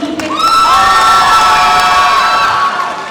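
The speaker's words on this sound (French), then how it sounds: "On les applaudit très fort, s'il vous plaît." A crowd at a manga festival cosplay contest cheers and shouts loudly for the contestants, a dense, continuous roar with high whoops rising above it throughout.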